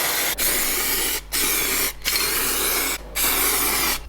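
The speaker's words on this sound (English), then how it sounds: "I gave the car a light dusting with some gloss black paint." Spray paint hisses in gloss black over a Ford Escort RS Cosworth during restoration, a steady close bursts with three short breaks between passes and no talking.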